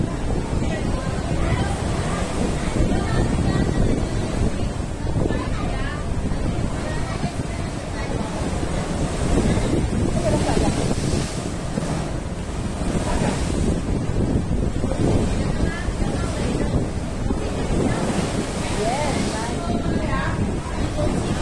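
Sea water surges and crashes inside a sea cave at Cape D'Aguilar, a loud continuous wash of waves with wind buffeting the microphone and voices talking over it.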